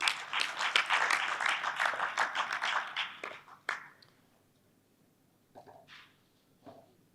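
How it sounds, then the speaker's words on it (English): An audience at a book launch by Buzz Women Gambia in Brusubi claps for several seconds, then the applause fades out, leaving a few faint scattered claps and taps. "So maybe a special applause for all the women."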